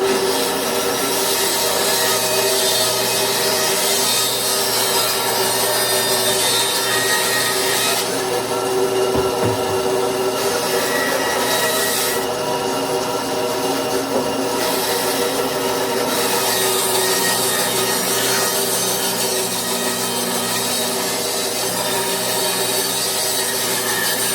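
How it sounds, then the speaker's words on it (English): A round wood blank being hand-sawn for the lathe, a steady back-and-forth rasping saw stroke continuing close and loud throughout, with brief pauses in the strokes. "let's just cut this round"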